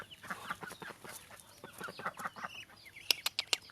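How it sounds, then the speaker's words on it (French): Several chickens on a farm in Thailand cluck and squawk close by in a busy, overlapping chatter, with a few sharp higher calls near the end. "Donc, les poulets, il y en a de partout."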